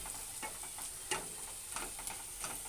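Onion and masala frying in a pan for a chicken curry, with a steady hiss of sizzling and a few faint stirring scrapes and clinks scattered through, fairly quiet and close.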